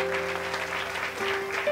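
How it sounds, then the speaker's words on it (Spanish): Wedding guests applaud at a reception, a dense, continuous patter of many hands clapping in a hall. A steady musical tone hums underneath throughout. "Recibamos a Talía Brea del Rosario con un fuerte aplauso."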